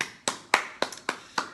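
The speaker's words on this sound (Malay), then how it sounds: "Bagi tepukan." A lone, slow round of hand claps at the end of a class session: five or six distinct, evenly spaced claps, fairly faint and close, with no voices over them.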